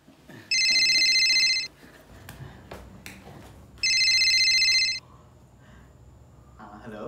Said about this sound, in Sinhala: පලයන් ෆෝන් එක ආන්සර් කරපන්